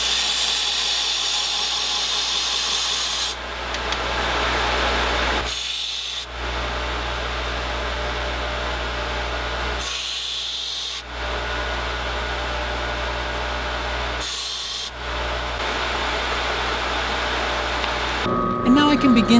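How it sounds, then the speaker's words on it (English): A belt grinder shortens brass bullet shell casings in a woodworking shop, giving a steady, harsh grinding hiss in several long passes separated by brief pauses. "and we can shorten them up on the belt grinder."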